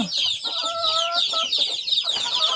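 Chickens at a Thai village home cluck and chatter close by in a busy, overlapping flurry of short calls, with a drawn-out squawk midway and continuous activity throughout.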